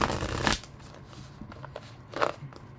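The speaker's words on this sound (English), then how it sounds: "Okay, pulling a card for you." A tarot deck gets shuffled by hand to pull a card: a quick close riffling burst at the start, then fainter scattered card rustles and a second brief shuffle.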